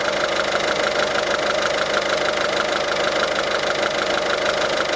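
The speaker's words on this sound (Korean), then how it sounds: "지금 이렇게 엔진음 들려드렸는데요" A Citroën DS3 diesel engine idles with the bonnet open, giving a steady, close mechanical clatter with a constant low rumble and no changes in pace.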